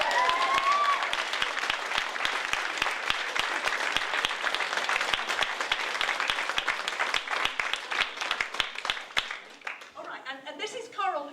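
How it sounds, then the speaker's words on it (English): An audience applauds the cast after a play, a dense continuous round of clapping that gradually thins into scattered individual claps before a voice starts talking at the end. "So, big round of applause"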